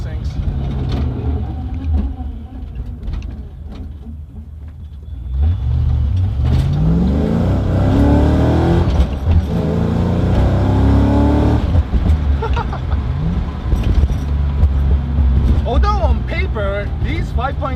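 A Fox Body Ford Mustang race car's 5.0-liter V8 rumbles at idle, then revs and accelerates hard with rising, sweeping engine tones and a loud, continuous roar, with talking underneath.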